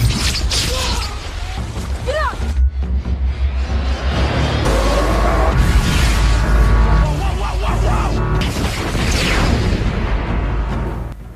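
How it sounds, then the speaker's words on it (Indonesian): An energy blast bursts from an alien object in the 2012 film Battleship, a loud deep booming rumble layered with metallic creaks and sweeping whooshes that swells and surges across the scene. "Tiba-tiba keluarlah ledakan energi yang membentuk kubah raksasa menutupi seluruh Hawaii."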